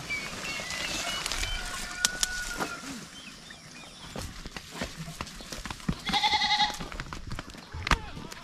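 Goats bleat outdoors on a provincial farm as they are let out of their pen, several calls rising over scattered thumps and footsteps, with a person talking and birds calling faintly in the background.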